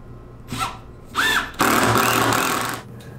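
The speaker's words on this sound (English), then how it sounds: "Now I'll screw the bottom edge of that back to the carcass" A power drill drives screws through a plywood back panel into a workbench carcass, with two short whirring bursts followed by a longer sustained run of drilling up close.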